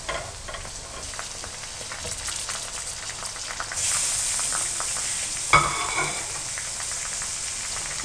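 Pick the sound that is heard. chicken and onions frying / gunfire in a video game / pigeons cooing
chicken and onions frying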